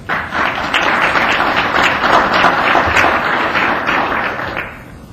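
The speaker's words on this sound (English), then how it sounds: "give them a round of applause as well" A room of people at a city council meeting gives a round of applause, dense clapping that holds steady and loud for several seconds before fading out at the end.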